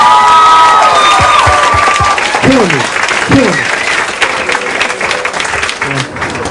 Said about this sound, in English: Applaud that poet, please.